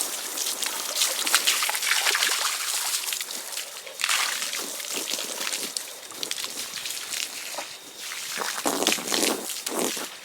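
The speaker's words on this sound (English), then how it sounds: "And the water's filling up nicely." Water from a hose trickles and splashes steadily into a garden pond nearby, with uneven bursts of sloshing and no talking.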